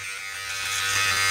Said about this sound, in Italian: Andiamo quindi a tagliare la barba, questo è il rasoio che andremo a utilizzare